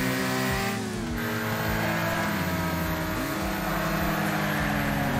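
A race car engine in a drifting video game revs steadily, its pitch rising and falling through gear changes and slides as a continuous loud drone with no talk over it.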